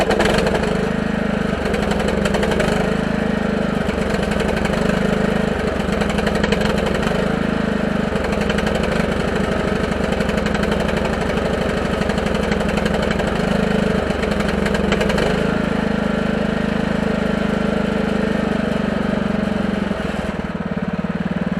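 A lawn tractor engine fitted with an electric fuel pump idles continuously nearby, a loud, steady low chugging with slight fluctuations in pace throughout.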